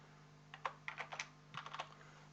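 Quiet keystrokes tap on a computer keyboard in two short bursts, a single key then a quick run of clicks, close and soft with no talking.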